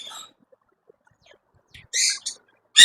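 Yellow ringneck parakeets in a bird shop give a few short, bright chirping calls in two bursts near the end, with sparse faint sounds and near-silence in between.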